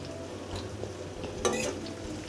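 Turmeric mixed into meal maker pulao frying in a pan: a quiet bed of frying hiss with a brief scrape of a spoon through the rice near the middle.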